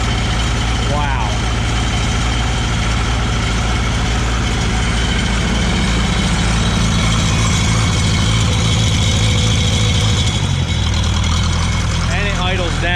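Small gasoline engine on inexpensive welding equipment idling steadily with a loud, continuous mid-low drone and rattle, dropping in pitch around the tenth second as it idles down; close and unbroken throughout.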